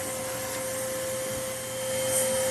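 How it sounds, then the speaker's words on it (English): A vacuum cleaner hose runs over the rails of a Prusa XL 3D printer, picking up bits of filament; a steady, loud, close whine with a sharp pitched tone drones on without pause. "I just vacuum the rails, anything around here, any little pieces of filament"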